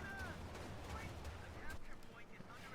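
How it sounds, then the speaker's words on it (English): Calliope rocket artillery barrage in Company of Heroes 2, a dense, continuous rumble of distant firing and impacts with low booms and scattered whistling streaks, steady throughout under busy battlefield noise. "Lieutenant Dan with some arty from the Calliope"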